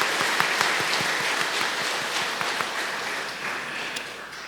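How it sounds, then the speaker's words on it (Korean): Applause in a church service welcoming a family, a steady wash of many hands clapping at moderate distance with a few sharper individual claps, continuing throughout without speech. "여러분 큰 박수로 환영해 주시기를 바랍니다"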